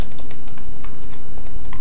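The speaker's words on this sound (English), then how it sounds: "I'm typing accounts here" Rapid, steady clatter of keys on a computer keyboard, close and fairly loud, with no voices, typing into an Excel spreadsheet.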